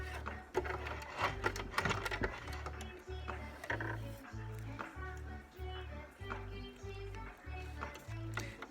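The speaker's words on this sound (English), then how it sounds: "I'm having the most trouble with this damn sewing machine" Household sewing machine stitching cloth diaper elastic, a close rhythmic mechanical chatter pulsing in even bursts with a low motor hum, clicks and rattles on top, faint background sound underneath.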